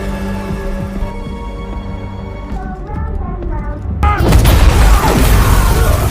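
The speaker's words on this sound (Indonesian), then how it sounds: "anak buah McCaffrey pun mendapat kejutan berupa ledakan yang disiapkan oleh Dan" A film explosion bursts in about two-thirds through as a loud, broadband boom with rumbling debris, following a stretch of tense musical score with sustained tones.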